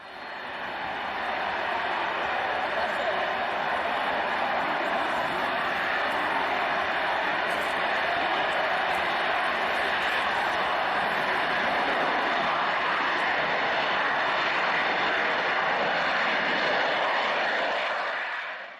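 Soviet Tupolev Tu-134 airliner engine, a sustained loud roaring whine with a broad rushing hiss, steady throughout before trailing off at the very end.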